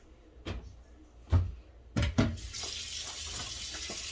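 Kitchen tap water running while food is rinsed, with a few sharp knocks and splashes early on, then a steady close hiss of flowing water into a sink.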